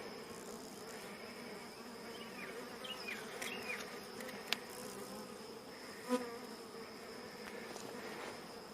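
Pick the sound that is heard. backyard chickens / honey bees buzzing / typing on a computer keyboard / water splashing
honey bees buzzing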